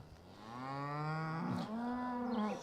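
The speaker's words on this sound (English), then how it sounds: "Here's the cows. Here's the cows right here." Cows mooing nearby: one long, drawn-out moo that swells and bends in pitch, followed by a second lowing call, loud and clear with no talking.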